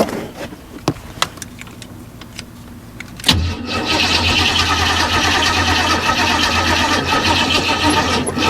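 An abandoned Chevrolet Monte Carlo SS, sitting for over 20 years, cranks after a few clicks and rattles, then fires up and settles into a loud, steady rough idle close by.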